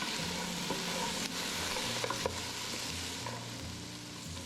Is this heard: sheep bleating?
no